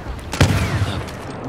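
Blaster fire rattles in the Star Wars Battlefront video game, a dense loud volley of energy shots with a heavy thump early on, trailing into continuous battle noise.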